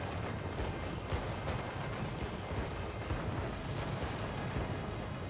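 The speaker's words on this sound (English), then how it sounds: "Here come the AP bombs." Armor-piercing bombs strike and explode in a World of Warships naval battle, a dense, continuous wash of booming artillery-like blasts and rumble, loud and unbroken throughout with no talk over it.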